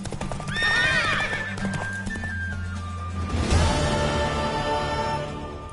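In The Witcher III video game, a mare whinnies loudly and nearby with a rising, wavering neigh, followed by a fuller snort and clopping hooves under steady ambient game sound.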